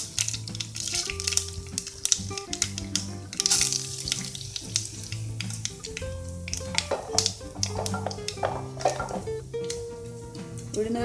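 Mustard seeds and a handful of urad dal fry in hot oil for upma, giving a continuous crackling sizzle with scattered sharp pops, close and moderately loud, over soft background music.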